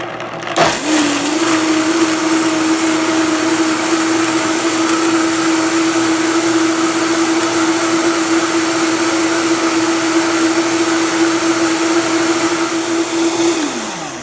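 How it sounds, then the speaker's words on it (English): A countertop blender whirs at a constant high pitch while blending a thick cashew cheese sauce, starting abruptly, running steadily and loudly for over ten seconds, then winding down at the end. "Turn on your blender."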